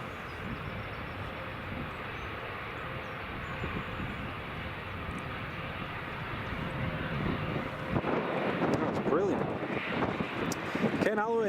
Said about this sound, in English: that is the plane down on the ground after a